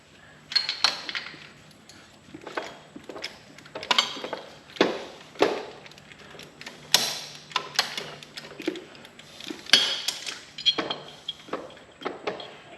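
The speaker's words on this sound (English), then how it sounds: "So you need to grab you a 5/8 socket, spark plug socket. I'm going to pull the plugs out." A 5/8 spark plug socket on a ratchet works the plugs out of a 2014 motorcycle with about 33,000 miles, giving a rhythmic series of close, sharp metallic clicks and ticks in short bursts over a quiet background.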